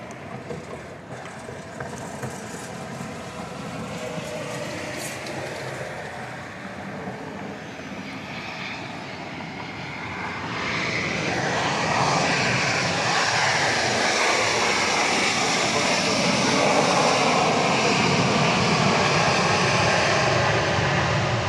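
A Boeing 737-700 jet airliner roars past arriving at Dallas Love Field, its engine noise swelling from a distant whine into a loud, broad rushing roar that holds steady.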